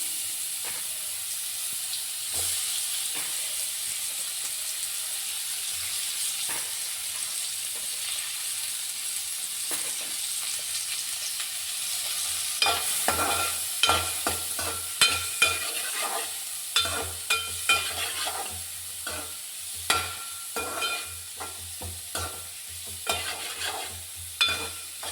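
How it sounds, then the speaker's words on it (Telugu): Onions frying in oil left in a pan after fish were fried: a continuous hissing sizzle, then a run of sharp, rhythmic spatula scrapes and knocks from stirring in the second half, close and loud with no talk. "ఇప్పుడు ఇందులోనే ఉల్లిపాయలు వేసుకుంటున్నాను."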